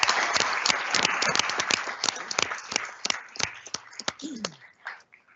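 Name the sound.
round of applause for coaching staff at board meeting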